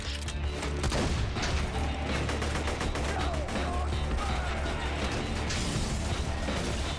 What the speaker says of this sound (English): I'm just shooting him in the head with a rifle